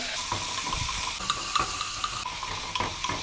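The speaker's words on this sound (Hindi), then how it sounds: "अब हम इसमें ऐड कर देंगे 2 स्पून जिंजर गार्लिक पेस्ट। इसको थोड़ा सौते कर लेंगे।" Ginger garlic paste sautéing in a pan with browned onions for tuna biryani: a steady soft sizzle with scraping stirs and light clinks of a spoon, close by, no voices.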